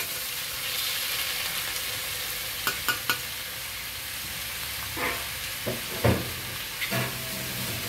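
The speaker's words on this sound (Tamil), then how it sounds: "இப்போ பாருங்கள் நல்லா வதங்கிடுச்சு, தக்காளியும் நல்லா வதங்கிடுச்சு." Onion and tomato sauté in a pan with salt, sizzling steadily while a spoon stirs with a few brief scraping knocks, close and without talk.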